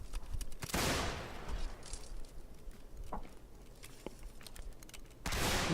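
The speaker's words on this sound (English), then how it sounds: "So they are shooting." Distant rifle volleys at a Civil War reenactment regiment's interregimental shooting event crack out as two loud blasts near the start and end, with scattered faint single shots in between over a low outdoor background.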